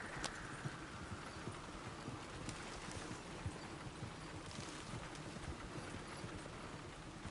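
A horse's hooves clip-clop along a road in the Red Dead Redemption 2 video game, in a steady, even gait under a constant wash of background noise, with no talk over them.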